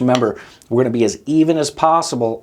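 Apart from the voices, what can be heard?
No distinct noise like a dog, phone or traffic.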